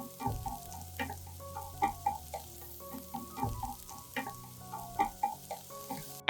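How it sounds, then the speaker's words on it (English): Garlic and onion sizzle in hot oil as they sauté, a steady frying hiss broken by recurring light clicks and taps of stirring, with no voices. "As the garlic and onion sizzle in the hot oil, they release a warm, savory aroma"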